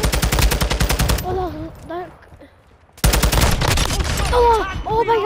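Rapid automatic gunfire in Call of Duty: Modern Warfare, loud and close, in two bursts separated by a short lull, with a voice exclaiming over the second burst.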